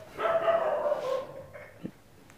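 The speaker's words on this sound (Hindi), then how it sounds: "ये कौन को भाई बाहर भौंक रहा है?" A dog barks outside, a single drawn-out yelping bark followed by a short whimper, moderately faint and distant, with no speech over it.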